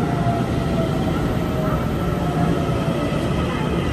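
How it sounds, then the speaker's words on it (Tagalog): A train pulling into Chungli station in Taiwan, a steady loud rumble with wheel and rail noise filling the whole stretch, with crowd murmur blended in. "yan na yung train."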